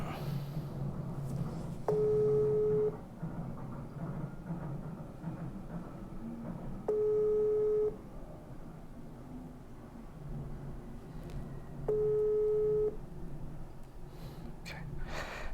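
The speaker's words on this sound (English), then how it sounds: "I'm going to make one more phone call" A telephone call signal sounds during a phone call: three steady ringback tones, each about a second long and several seconds apart, under faint background noise and low murmur.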